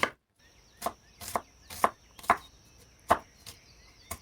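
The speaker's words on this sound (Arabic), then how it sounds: "خديت كمية بصل وقعدت نقص فيها يعني جويد" Knife chopping onions on a board, about eight sharp, separate cuts in an uneven rhythm, close and fairly loud against a quiet room.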